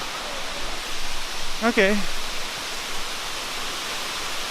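Rushing water of the Krushuna waterfalls, a steady broadband roar filling the scene while a person briefly speaks over it near the middle.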